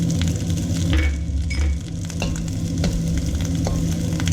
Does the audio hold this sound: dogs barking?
no